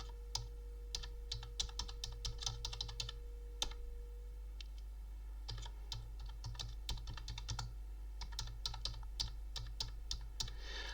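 Keys on a computer keyboard clatter in quick, uneven runs of close, crisp taps while entering data and pressing Tab in MS Excel, with brief pauses between bursts over a faint steady hum.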